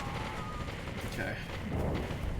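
Minigun fire in Halo 3, a dense unbroken roar of rapid shots mixed with other battle noise for a couple of seconds.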